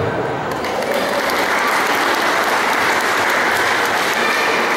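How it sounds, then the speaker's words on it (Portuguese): A dense, loud round of applause from a crowd at a Mother's Day celebration, sustained and even throughout, with no talking. "Salva de palmas merecida, Valcirei, representando a Câmara de Vereadores."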